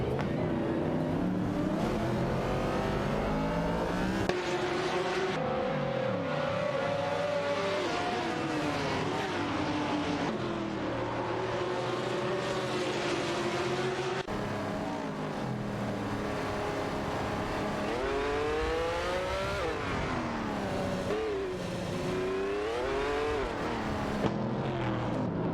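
Racing-game cars, including McLaren and Nissan R382 models, roar continuously with rising and falling engine pitch as they accelerate, shift and pass one another, loud and sustained.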